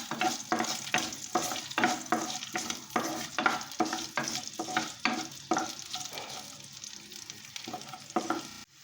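Onions sautéing in sesame oil for a brinjal gravy, with a continuous soft sizzle and a regular rhythm of spatula strokes scraping the pan, slowing and thinning toward the end, no voices.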